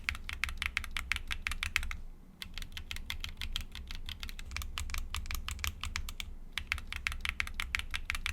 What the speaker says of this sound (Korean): 그래서 다른 스위치를 연결해서 타이핑을 해봤어요.